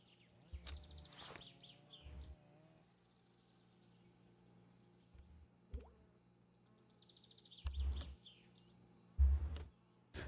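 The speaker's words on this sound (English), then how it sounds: "I hear my birds outside" Scattered bird chirps and short tweeting calls outdoors, faint and intermittent, with a few louder bursts near the end over a quiet background hum.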